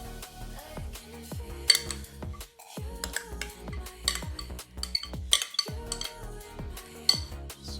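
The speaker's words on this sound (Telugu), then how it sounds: "సో ఇటు పెరుగు కొంచెం బాగా కలుపుకుందాము." Yogurt is stirred in a bowl with a spoon, the metal clinking and scraping against the dish in quick, uneven strokes, close and fairly quiet, with no talking during the stirring.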